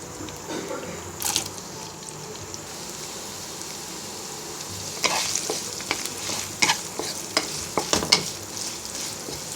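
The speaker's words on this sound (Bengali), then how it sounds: "এবার পেঁয়াজটাকে ব্রাউন কালার করে ভেজে নিব" A cup of chopped onions frying in hot oil in a wok (kadai): a steady sizzle, then louder bursts of crackling and spoon clatter as the onions are stirred in the second half.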